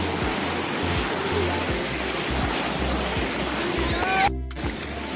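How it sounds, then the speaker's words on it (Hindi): A mountain waterfall on a trek in Manali rushes with a loud, steady roar that fills the whole clip, joined by faint thumps and a brief rustle near the end. "Now we have waterfall"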